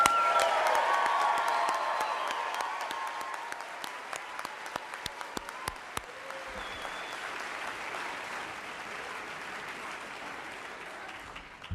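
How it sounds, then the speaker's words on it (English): An audience applauds NASA's 24th astronaut candidate class, loud at first and gradually thinning, with scattered distinct claps and a few faint cheers as it fades away. "please join me in giving them another round of applause"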